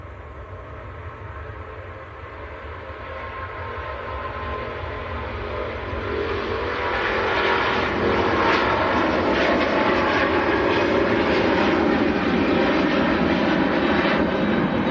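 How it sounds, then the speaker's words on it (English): Qatar Airways Airbus A350-1000 taking off from Manchester Airport: a rising jet-engine roar that swells from a distant rumble to a loud, sustained thunder as the aircraft accelerates down the runway. "Qatar next to roll. So this is A350, the 1000 series."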